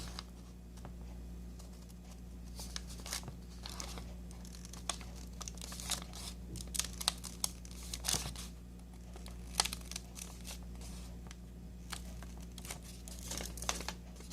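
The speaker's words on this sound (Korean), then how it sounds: "가위를 이용해서 한꺼번에 이렇게 잘라줍니다" Scissors cut through a stack of folded paper for an origami Christmas tree, giving a string of faint, crisp snips and rustles at close range over a low background hum, with no talking.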